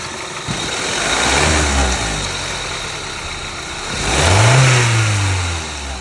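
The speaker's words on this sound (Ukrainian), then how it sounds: "дати оборотів на 3 тисячі" A Volkswagen Golf Plus engine is revved toward 3000 rpm in two swells, climbing and falling back to idle, close and loud with no talk.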